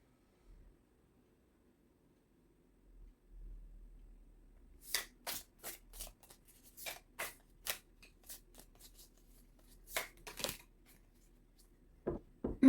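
A deck of cards being shuffled close by, first a soft rustle and then a rapid run of crisp riffling bursts, ending with a few sharp taps as the cards settle; no one speaks.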